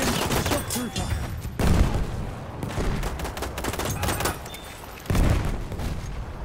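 Rapid pistol shots from a Frommer Stop handgun in the World War I shooter Battlefield 1, loud and close, fired in quick bursts amid battlefield din, with game voices underneath.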